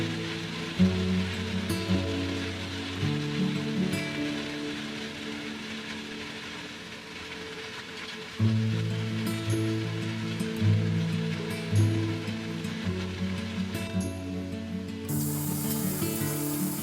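Boiling water poured over broccoli in a kitchen, a steady splashing spray with a low gurgle that runs continuously for most of the pour, briefly easing before resuming, close and fairly loud.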